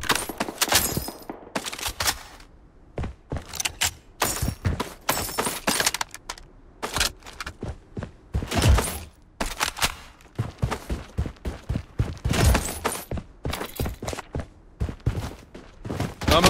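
Heavy gunfire rattles through a Blood Strike firefight: repeated loud bursts of rifle shots in fast, irregular volleys, broken by short pauses.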